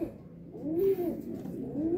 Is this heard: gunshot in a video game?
no